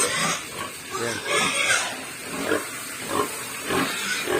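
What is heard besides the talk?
pigs oinking on a farm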